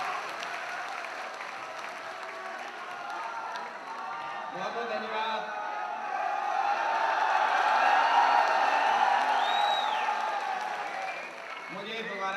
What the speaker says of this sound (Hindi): जोरदार तालियां बजाइए चकोर जी के सामने।